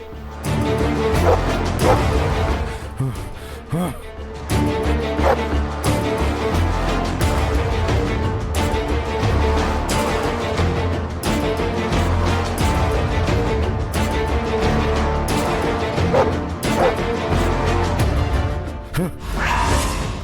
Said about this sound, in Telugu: అది పిచ్చి కుక్కలా ఉంది సార్.